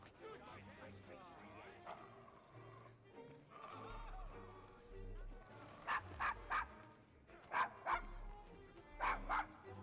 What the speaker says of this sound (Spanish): ¿Se encuentra bien su perro?